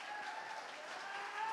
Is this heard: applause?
yes